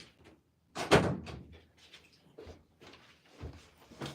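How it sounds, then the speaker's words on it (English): An indoor door shuts with one sharp thud near the start, followed by quieter knocks and shuffling sounds in a home. "Let me close my other door."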